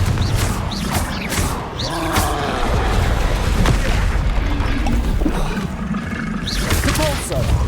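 Confringo spell blasts in Hogwarts Legacy go off repeatedly in combat: booming hits, crashes and whacking impacts layered with clattering effects across several seconds, loud and close, with a player talking over the action.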